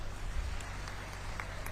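An audience applauds at an elders' honour ceremony in Chhattisgarh attended by the state agriculture minister, producing a faint, steady patter of distant clapping over a low hum.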